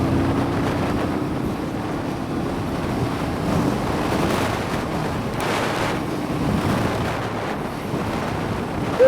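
Wind roars over a 2019 Honda CBR500R motorcycle at highway speed, a constant heavy buffeting rush close to the microphone with the engine drone buried beneath it and no speech.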